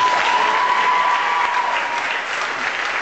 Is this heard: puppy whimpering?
no